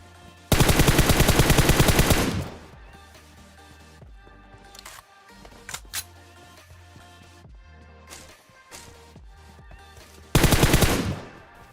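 Rapid automatic gunfire in PUBG Mobile comes in two loud, sustained bursts of shots, with scattered single shots and game sounds in between.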